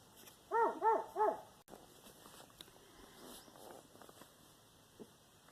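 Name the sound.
dog barking at a young boy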